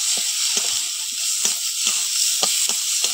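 Mashed bottle gourd peel paste with crushed garlic sizzles steadily in a pan, a continuous frying hiss broken by soft periodic stirring scrapes, close and fairly loud with no talk.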